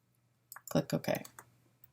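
A few quick computer mouse clicks in a short burst, close and fairly crisp, heard while adding an image to a website carousel component in AEM.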